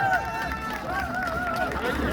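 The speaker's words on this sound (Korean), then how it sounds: "여러분 다시 한번 박수 보내주시기 바랍니다" Steady audience applause fills an award ceremony at the Gangwon arts festival's housewives' singing contest, a dense, continuous patter of many hands throughout, with a voice speaking over it.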